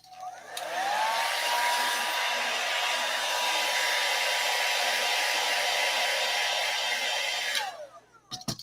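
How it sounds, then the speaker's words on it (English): A heat gun blows continuously for about seven seconds, softening Barge contact cement glued roughly fifteen years ago. Its loud, steady whooshing hiss starts and stops abruptly, with no talking over it. "heat gun to loosen this glue. It was done with Barge probably 15 years ago."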